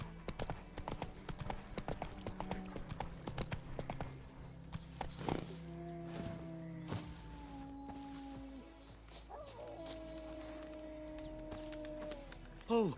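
Roach, the horse from the video game The Witcher 3, galloping in a rapid rhythmic clip-clop of hooves, close and steady throughout with game ambience and a few tonal notes layered over it, no talk.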